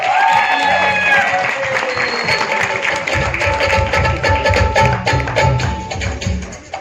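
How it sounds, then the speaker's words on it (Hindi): Loud, sustained audience applause at a film trailer launch event for Gadar 2, with crowd noise and cheering swelling, a voice heard over the start. "एक बार जोरदार ताली चाहिए उत्कर्ष के लिए"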